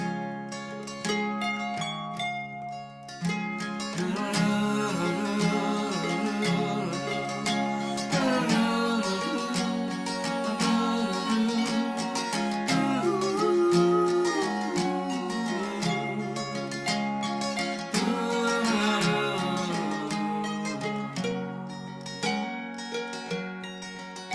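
A band plays the old marching tune Garryowen, lively, full and continuous, with many instruments layered together throughout.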